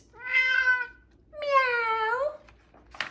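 A cat gives two drawn-out, clear meows close by, each about a second long with a short pause between, then a faint brief sound at the end.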